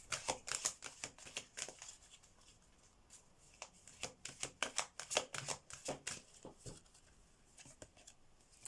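Oracle cards shuffled by hand up close, a soft rapid flutter of riffling paper in quick repeated bursts, fairly quiet and heard alone.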